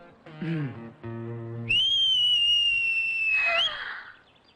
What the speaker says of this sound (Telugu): నువ్వే కదా విజిల్ వేసింది,